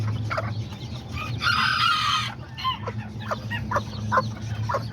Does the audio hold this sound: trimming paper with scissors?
no